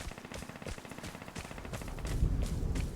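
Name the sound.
gunfire in the video game Vigor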